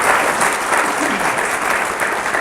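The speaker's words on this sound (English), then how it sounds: "Give him a big hand of applause." A brief burst of steady audience clapping at a public design competition event in Memphis, dense and even, with no voices over it.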